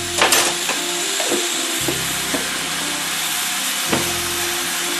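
Garlic and hot sauce sizzle in a hot pan for Cajun gumbo, a steady broadband frying hiss with scattered crackles and stirring knocks, close and continuous with no talking.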